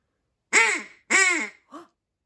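A duck call is blown to imitate a duck, giving two loud, drawn-out quacks and a shorter third one, close and alone against silence.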